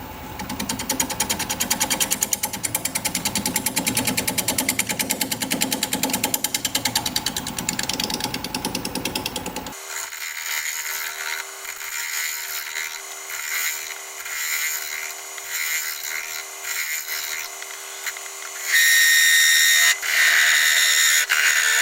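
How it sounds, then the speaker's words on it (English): A wood lathe spins at 585 RPM while a 5/8 inch bowl gouge cuts a wooden vase, a dense, gritty scraping roar that gives way to a steady motor whine, then swells loud again near the end. "We're gonna be turning at 585 RPM, 5/8 inch bowl gouge, mask, and face shield on."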